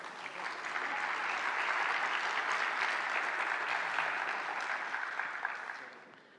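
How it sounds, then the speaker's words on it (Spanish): Loud, steady applause from a seated audience at a labour-law congress, honouring a doctor receiving a recognition diploma; dense clapping swells in, holds for several seconds, then tapers slightly. "Le brindamos un fuerte aplauso,"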